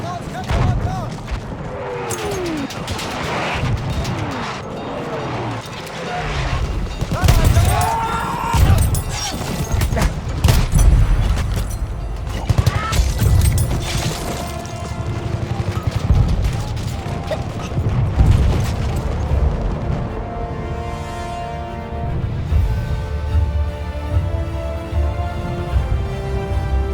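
A grenade blast and gunfire in Battlefield 1 on the Argonne Forest map: dense, loud, continuous rattling fire and booming detonations, with shouting voices mixed in throughout.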